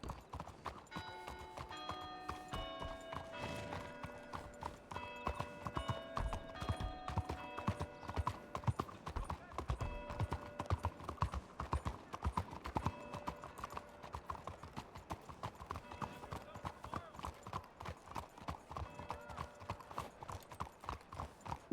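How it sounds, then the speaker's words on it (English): Horse hooves clip-clop steadily in the Red Dead-based game WildRP, a continuous close rhythmic trot running throughout with an occasional whinny and faint background bits but no clear talk. "My horse is so short that he can't keep up."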